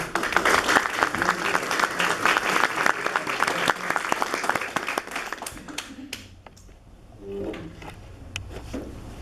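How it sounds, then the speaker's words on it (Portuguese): An audience at a health presentation claps in a dense burst that thins into scattered individual claps and fades, with a few voices murmuring near the end. "Ok, então, mais um aplauso."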